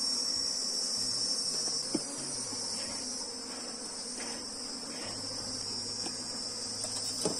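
Honeybees hum steadily around an open hive while frames are being worked, with a few small knocks and clicks on top. No one speaks.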